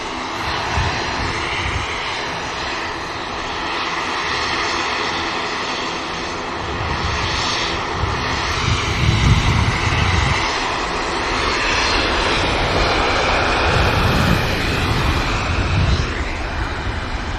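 An EasyJet jet airliner takes off for Geneva at Manchester Airport, a broad sustained engine roar that swells and rumbles steadily throughout, heard alone without talk.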